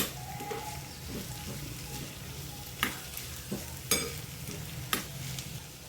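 Grated carrot stir-fried in a pan gives a low, steady sizzle throughout, punctuated by several sharp spatula clicks and scrapes against the pan.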